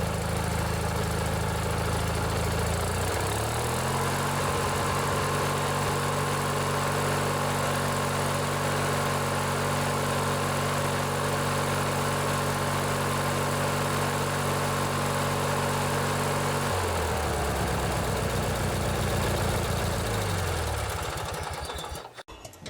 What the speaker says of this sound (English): That's a good solid engine, ready to rip.